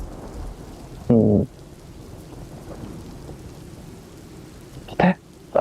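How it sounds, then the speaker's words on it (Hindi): Heavy rain with thunder pours steadily throughout, broken twice by brief, close vocal sounds. "इससे आज बारिश बड़ी तेज हो रही है ना"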